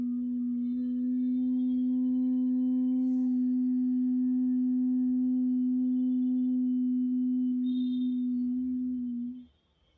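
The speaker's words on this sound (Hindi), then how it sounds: "फिर भंवरे की तरह गुंजन करते हुए, हमिंग बी की तरह आपने गुंजन करनी है," Bhramari humming bee breath in yoga, one long steady low hum held for about nine seconds before stopping abruptly, close and alone.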